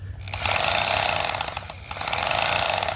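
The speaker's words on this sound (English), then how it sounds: "This thing just hammers back and forth as it drills." A hammer drill bores into the outside wall of a house while a new outdoor faucet is fitted, a loud, steady rattling hammer with one short dip partway through, heard close with no talk.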